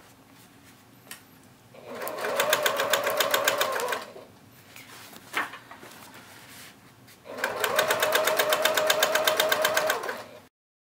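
A sewing machine top stitches a tote bag in two steady, fast-running bursts of a couple of seconds each. A brief pause with a sharp click separates the bursts. The sound is close and clear, with no talking.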